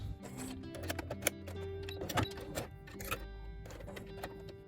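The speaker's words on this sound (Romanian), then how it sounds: "va trebui să mai încarc o bobină, dar nu o să o încarc complet" A sewing machine winds a bobbin partway for a French terry midi dress, giving a steady close mechanical whir with faint clicks and taps throughout.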